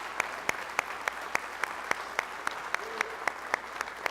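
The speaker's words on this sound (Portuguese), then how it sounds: "Você pode sim aplaudir a esse Jesus." A church congregation claps in praise during a Portuguese-language sermon, with a steady rhythmic beat of unison claps standing out over a soft background of scattered applause.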